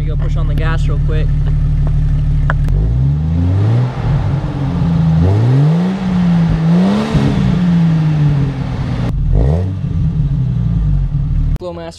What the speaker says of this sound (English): Let you hear the exhaust. Let me go push on the gas real quick.